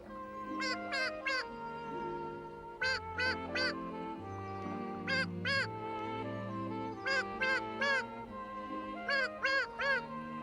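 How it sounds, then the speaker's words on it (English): Cartoon mother duck and her five ducklings at a pond, with bursts of loud quacking in repeated clusters over a continuous musical background. "they saw the mother duck and her 5 other ducklings"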